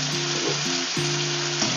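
Pork adobo with vinegar and soy sauce sizzles loudly and steadily in a hot pan as it is stirred, a close, continuous frying hiss with a low tonal hum running beneath.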